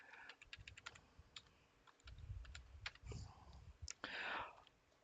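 Password keystrokes tapped on a computer keyboard during a SQL Server install on Red Hat Enterprise Linux 7, a quick run of close, soft clicks in brief bursts against faint room noise.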